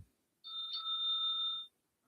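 A single bright electronic ding, a clean sustained chime tone lasting just over a second, then silence.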